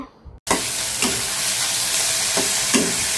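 Egg bhuna frying in a pan while being stirred, a loud continuous sizzle with hissing steam and periodic scraping strokes of the spoon after a short quiet moment at the start.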